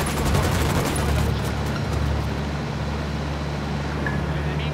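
Rapid gunfire in the Ghost Recon Wildlands video game, a dense rattling burst in the first couple of seconds that fades into a steady rumbling background.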